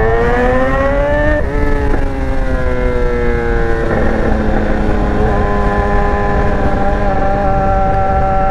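A BMW S1000R motorcycle accelerating hard on a road between São Bento do Sul and Campo Alegre, its engine whine climbing through gears with brief dips at shifts, loud and close over steady wind rush.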